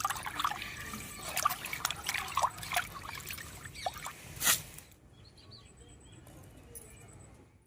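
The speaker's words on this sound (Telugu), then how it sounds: "ఈ ఉడక పెట్టుకున్న నీళ్లు పక్కన పెట్టుకుని కోరుడు తోడంగా మళ్ళీ పోసుకోవాలి" Chicken cooking water is poured back into a pot, a close trickling and splashing stream for several seconds that then stops, leaving faint background with light bird chirps.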